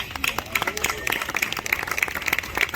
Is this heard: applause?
yes